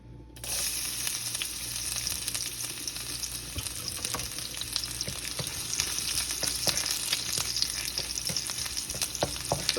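Garlic sizzles in olive oil in a frying pan, a dense, steady crackle that starts abruptly and holds close and loud throughout, with no voices.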